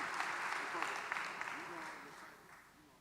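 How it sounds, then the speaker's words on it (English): Audience applause at a university fall convocation at Clark Atlanta University, a broad wash of clapping that gradually fades, with a voice speaking faintly underneath. "please give our CAU Panther Call of Excellence another round of applause"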